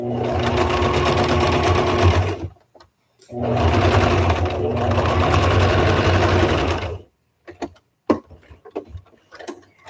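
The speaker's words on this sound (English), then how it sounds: "I'm not back stitching at the beginning at the end here because this is a basting stitch." A sewing machine runs a basting stitch on a fabric face mask in two loud, steady bursts of a few seconds each, then falls to quiet with scattered clicks and handling noises.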